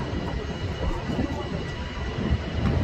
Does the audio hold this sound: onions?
no